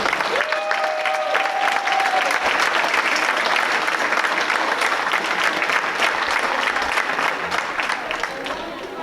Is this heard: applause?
yes